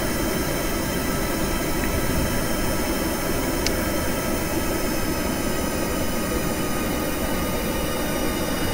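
Steady, loud roar of VTOL aircraft jet engines held at just under half throttle in Kerbal Space Program, a constant broadband drone without change during hover or approach.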